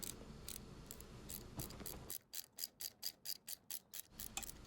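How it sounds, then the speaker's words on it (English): A ratchet fitted with a 5/8 spark plug socket turns out a spark plug on a Honda VTX 1800, giving a run of about ten crisp, evenly spaced clicks, close and faint, between softer scraping handling sounds. "I'm going to use a 5/8 spark plug socket to remove"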